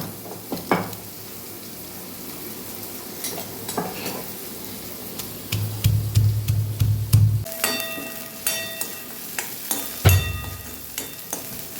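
Onions sauté in a pan, a crackling sizzle that swells and fades with stirring, punctuated by light metallic ticks and clinks of a spoon against the pan.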